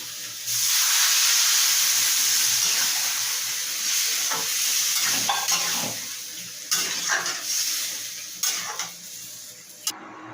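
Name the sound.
jackfruit curry with potatoes cooking after water is added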